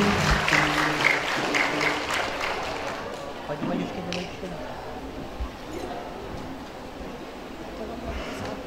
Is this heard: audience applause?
yes